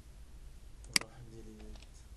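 A single computer mouse click, right-click to save, sounds sharp and close, with a voice talking softly around it.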